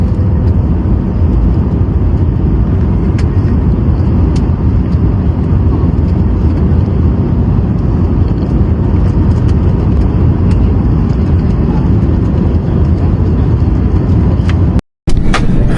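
An IndiGo passenger jet descends to land at Hong Kong's island airport, heard from inside the cabin as a loud, steady low roar of engines and airflow that runs on without a break, with a brief dropout near the end.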